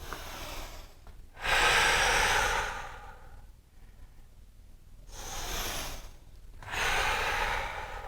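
Deep, audible breathing during a yoga leg and core session: slow alternating inhales and exhales, each a few seconds long, close and fairly soft, with no talking.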